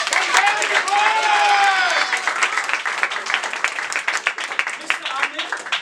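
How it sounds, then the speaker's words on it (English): Crowd at an award felicitation claps loudly, with cheering and whistling voices riding over the applause early on before it thins into individual hand claps. "A big round of applause."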